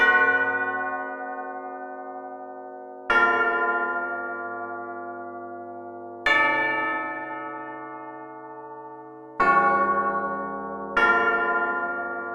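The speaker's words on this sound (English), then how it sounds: "We got some bells though." Bell melody from a Mandela Catalogue mod of the Incredibox music game: five struck, church-like bell tones with long ringing decays, spaced a few seconds apart and heard alone.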